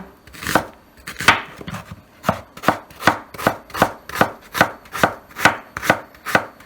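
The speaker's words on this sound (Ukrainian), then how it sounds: "Так, нарізаємо ми нашу цибулечку." A knife chops an onion steadily on a cutting board, about a dozen crisp, evenly spaced strokes in a regular rhythm, close and clear with no talking.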